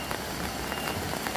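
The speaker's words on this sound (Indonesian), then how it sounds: "hujan rintik-rintik alhamdulillah nggak deras" Light drizzle falls on a sand mine at Gunung Gedang, Blitar, in Indonesia, a steady soft patter with a broad hiss that holds even and close throughout.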